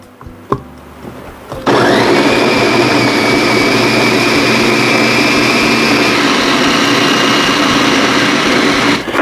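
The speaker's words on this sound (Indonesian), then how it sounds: "Saya tambahkan air secukupnya saja ya teman semua, supaya blendernya ini kerjanya ringan" A kitchen blender whirs loud and steady as it grinds chili peppers and ginger in water, starting abruptly after a few soft clicks and running continuously with a high motor whine.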